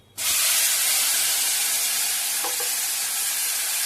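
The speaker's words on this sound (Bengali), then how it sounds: "এবার পেস্ট করা মশলাটা হচ্ছে পেঁয়াজ বাটা, রসুন, আদা, কাঁচা লঙ্কা, এটা ঢেলে দিলাম" Ground onion paste with garlic, ginger and green chilli is poured into hot oil for a prawn malai curry, bursting into a loud, sudden sizzle that holds as a steady, dense hiss throughout.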